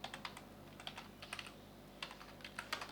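Quiet, rapid keystrokes on a computer keyboard as C code is typed, an irregular stream of light clicks in short bursts, faint and close with no voices.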